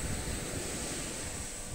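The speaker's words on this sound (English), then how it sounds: "It's getting a little windy" Blustery wind on a beach after a hurricane buffeting the microphone in a constant roar, mixed with the wash of surf nearby.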